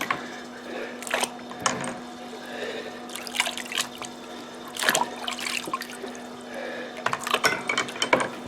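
Clear water trickling and dribbling in short uneven bursts after gun cleaning, close and moderately loud, with quiet gaps between the pours over a faint steady hum.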